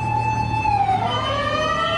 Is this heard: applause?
no